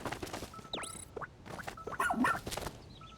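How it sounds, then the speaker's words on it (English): A small dog-like creature in a Pikmin video game lets out short, squeaky, chirping barks and whimpers among the game's light effect tones, fairly close and brief. "I don't speak Ouchi. It just sounds like dog to me."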